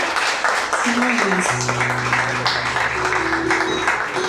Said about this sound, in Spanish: Yo les pido un fuerte aplauso a Dios por la vida de nuestro pastor, José Alejandro García Castro.